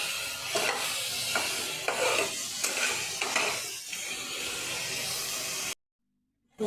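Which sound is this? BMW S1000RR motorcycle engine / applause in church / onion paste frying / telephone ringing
onion paste frying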